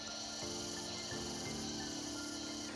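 Steady high-pitched cricket chirping in Bali fills the scene, a dense continuous trill with a low hum running beneath it.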